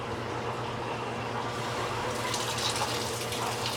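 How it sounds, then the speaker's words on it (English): Water from a hose flows gently into a 1600-gallon pond filter system over a bed of sand, a steady broadband rush that swells slightly louder partway through, with no talking. "And now we're just going to turn the water on a bit"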